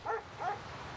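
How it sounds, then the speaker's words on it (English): A dog gives two quick, muffled barks close together at night in a residential house, then falls quiet; the barks are faint. "the fucking dogs"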